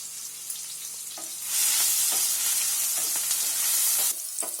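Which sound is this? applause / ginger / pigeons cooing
ginger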